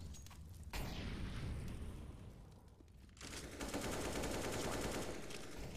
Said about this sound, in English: Sending some shots through the mid smoke